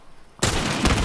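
After a quiet moment, a sudden loud explosion bursts out and rumbles on with a crackling roar.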